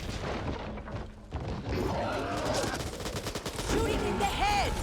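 Dense, continuous gunfire from the zombie shooter Back 4 Blood, with rapid shots and booms layered over game effects and faint in-game voices, loud and sustained for the whole stretch.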